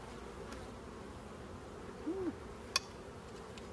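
Honey bees at an opened beehive while its frames are checked, a faint, steady low hum with a brief click near the end and no talking.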